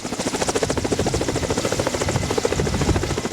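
A helicopter lifts a Christmas tree trunk weighing about 2.5 tonnes, its rotor beating in a loud, steady, close chop with a constant engine whine throughout, no voices.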